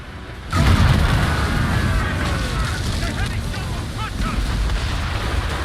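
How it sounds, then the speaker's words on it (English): Ship cannon fire in Assassin's Creed Rogue: a sudden loud boom at about half a second, followed by a sustained rumbling roar with wind and water noise that slowly fades but stays strong to the end. "Cannon ready!"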